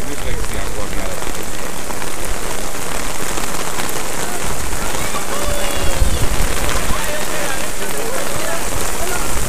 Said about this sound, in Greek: Και δεν χαλάζει εδώ τώρα στο κέντρο των Βρυλισσίων, έχουν πλημμυρίσει τα πάντα.